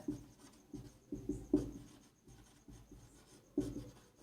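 Pen or chalk writing out a maths solution in a Hindi-language Class 10 heights-and-distances lesson, faint scratchy strokes in short irregular bursts, close and quiet, with no talk.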